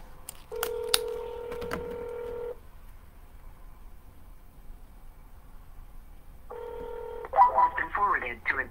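Touch-tone telephone dialing for a cold call to a Los Angeles real estate listing prospect: two bursts of steady DTMF keypad tones near the start and again near the end, separated by quiet line hiss, with a brief voice at the close.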